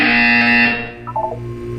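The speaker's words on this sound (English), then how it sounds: "You will hear a buzzer. When you hear the buzzer, look up at the ceiling." A harsh electronic buzzer sounds in the Portal 2 video game. One loud, steady tone lasts under a second and is followed by a short, faint electronic blip pattern.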